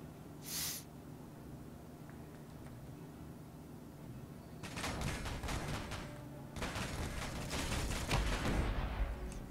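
Gunfire in the video game Space Engineers destroying an automated turret: a quiet stretch gives way to two bursts of rapid, loud shots with crackling impacts, the second running to the end.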